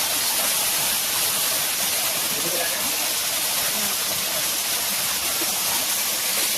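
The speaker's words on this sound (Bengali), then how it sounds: "এটা মহাকালের ঝর্ণা।" Mahakal waterfall near the Jayanti river on the Bhutan–India border pours steadily, a dense, constant rushing roar that fills the whole stretch without a break.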